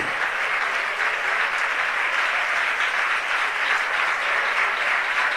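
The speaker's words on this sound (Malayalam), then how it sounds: "എല്ലാവരും ഭക്തിയോടെ ഹല്ലേലൂയ കൈയടിച്ച് സ്തുതിച്ചേ." A church congregation claps hands together in praise, a dense, continuous wash of applause from many people, loud and close, holding steady throughout with no talk over it.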